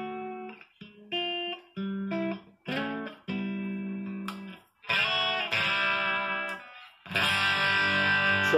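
Electric guitar riff played through a PettyJohn Iron Overdrive pedal, a series of distinct overdriven phrases with short gaps, growing brighter and dirtier toward the end as the player switches pickups and digs in near the bridge.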